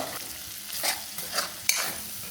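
Two green chillies frying in a pan while being stirred, soft sizzling with a few scraping stir sounds and one sharp clink, fairly quiet and close.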